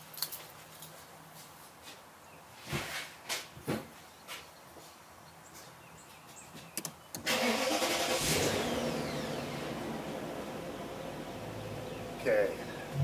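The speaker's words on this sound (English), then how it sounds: "let's fire up the car" A BMW E38 car engine cranks and catches, then settles into a steady, fairly loud running hum, preceded by a few scattered clicks and knocks.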